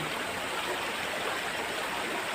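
Continuous rushing water from a secluded river in a rural province of the Philippines, a steady broadband flow that stays close and even, with no voices.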